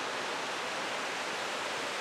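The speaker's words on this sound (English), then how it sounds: "I don't know if you can hear the brook down there, but it's way down there." A brook flows far below a steep, old-growth-forested mountainside in the Berkshires, heard as a steady, soft, distant rushing hiss with no voices over it.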